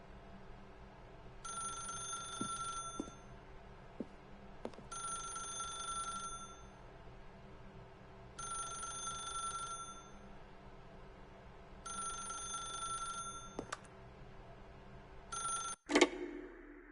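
A telephone rings in five evenly spaced bursts of bright electronic trilling, each about two seconds long with short pauses between, then a clatter as the handset is picked up.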